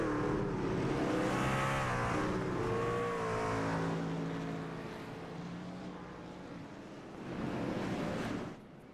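Truck Series race trucks in a racing game roll off onto the track at Kansas Speedway, a loud chorus of engines droning and whining in shifting pitch, easing off midway before swelling again and then dropping away.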